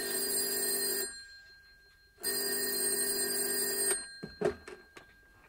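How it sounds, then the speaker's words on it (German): An old-style telephone bell rings loudly in two long bursts separated by a short pause, followed by a few clattering knocks as the receiver is handled. "Da klingelt das Telefon."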